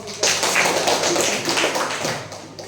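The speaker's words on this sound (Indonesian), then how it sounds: "Lagi berikan tepuk tangan dong." Sustained applause from an audience, a dense wash of clapping that swells and then slowly tapers off, with no talking.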